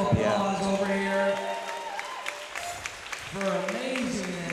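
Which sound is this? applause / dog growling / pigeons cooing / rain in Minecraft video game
applause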